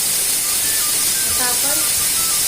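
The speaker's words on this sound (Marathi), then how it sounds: "आपल्या पाच सिट्ट्या झालेल्या आहेत मी आता बंद करते" Steady loud hiss of steam escaping from a pressure cooker after five whistles, continuous and close throughout with faint tonal squeals.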